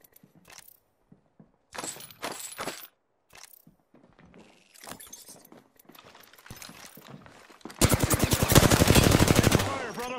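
Gunfire in the Apex Legends video game: scattered clicks and metallic clinks at first, then a loud, rapid automatic burst that rattles on steadily for the last couple of seconds.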